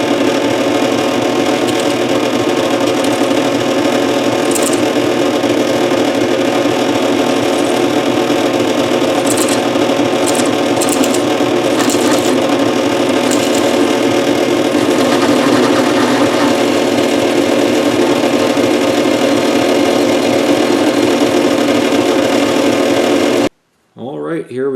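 A power drill whines steadily at a constant pitch as it bores into a metal valve guide of an oilfield engine, loud and close, running almost without pause before cutting off at the end.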